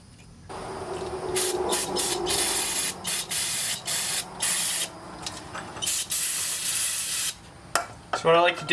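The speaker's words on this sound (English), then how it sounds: "spray a little bit of brake cleaner on a rag and wipe this all off" Brake cleaner hisses from an aerosol can in repeated bursts onto a rag during spindle nut work on a HMMWV geared hub. Close, steady spraying is broken by short pauses, and there is brief rubbing near the end.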